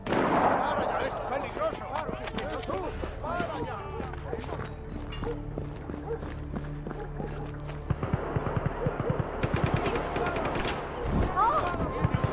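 Gunfire in the open-world action game Just Cause 3, with bursts of shots and explosive blasts in a loud, dense battle mix, later rising into sharp rapid cracks, with game voices shouting throughout.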